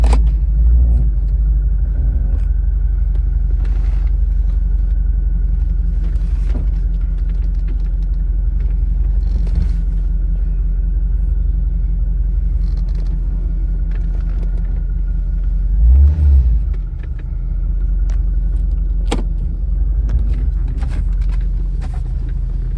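A C5 Corvette rumbles steadily as it drives, with the low engine drone loud and close throughout and a brief surge of revving near the end.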